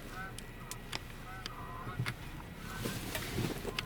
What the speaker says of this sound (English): Geese are flying by.